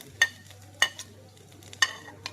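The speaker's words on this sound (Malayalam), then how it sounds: "കടുക് പൊട്ടി റെഡി, കടുക് റെഡി ആയിട്ടുണ്ട്" Sharp little pops of mustard seeds crackle in hot oil, a few distinct bursts over a low steady hum, close and fairly quiet.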